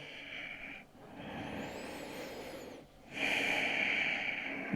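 Deep, slow breathing during a full-body stretching and mobility routine, a long inhale and then a louder airy exhale, close and alone.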